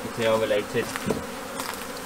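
Honeybees buzz steadily around a hive frame during a post-swarm hive inspection, a dense, close drone that continues beneath someone talking.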